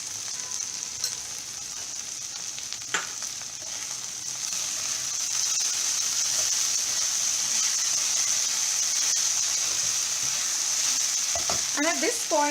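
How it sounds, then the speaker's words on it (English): Okra (bhendi) frying over a medium flame with red chili powder gives a continuous hissing sizzle that grows louder midway, with occasional scraping stirs and a squeak near the end. "this has to be done on a medium flame because we have to fry our bhendi very well"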